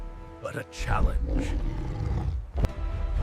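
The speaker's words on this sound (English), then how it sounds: "His roar was not a threat, but a challenge." King Kong, the giant ape, lets out rough, growling roars in several bursts, with a voice speaking over them.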